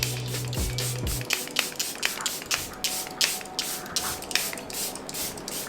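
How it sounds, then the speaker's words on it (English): Charlotte Tilbury airbrush setting spray misted onto a face in a series of quick, close, soft hissing spritzes, each brief burst following the last in an uneven rhythm, with no talking. "I'm gonna use my Charlotte Tilbury airbrushed setting spray."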